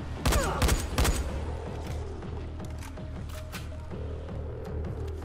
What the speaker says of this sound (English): We're getting shot at from afar.